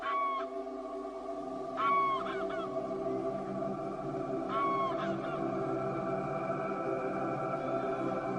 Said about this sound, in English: Grey-lag geese fly in for breakfast to search the rich marshland areas